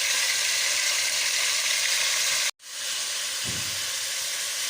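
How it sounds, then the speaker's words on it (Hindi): Chicken frying in a pan for a chicken palak curry, a loud, even hiss of hot oil close up that cuts out briefly and resumes, with a soft low thump near the end. "चिकन हो गया जी ऑलमोस्ट फ्राई।"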